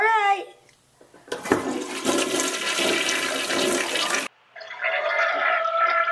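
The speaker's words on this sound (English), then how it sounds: "I'm gonna flush it right now." A household toilet flushes loudly up close, a steady rushing swirl of water for about three seconds, then the quieter hiss and trickle of the tank refilling.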